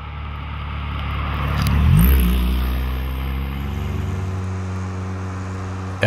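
A Ferrari 328 GTS with its 3.2-litre V8 revs up close by, swelling to a loud peak, then settling into a steady, throaty hum for several seconds with no talking.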